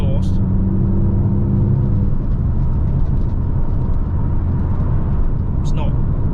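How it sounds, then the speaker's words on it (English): Steady low grunt of a Peugeot RCZ THP200 exhaust with the backbox deleted, heard from inside the car while driving, with road rumble and cabin rattles beneath it throughout. "you can hear the exhaust"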